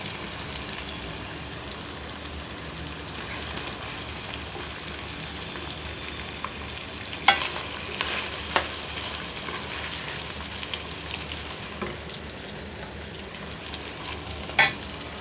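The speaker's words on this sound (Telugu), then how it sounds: "ఇదిగోండి బాగా వేగిపోయింది కూర" Gongura chicken curry frying in a pan, a long, even crackling sizzle like light rain, with occasional sharp spatters and a few utensil taps against the pan.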